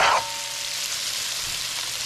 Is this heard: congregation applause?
no